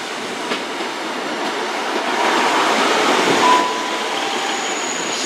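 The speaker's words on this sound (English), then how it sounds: "Arriving into platform 1 is the 1808 Great Western Railway service to Paignton." A Class 150 two-coach diesel train rolls steadily into a station, a broad mechanical rumble swelling slightly midway, with a faint brief squeal; no one speaks.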